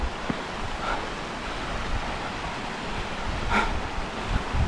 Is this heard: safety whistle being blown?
no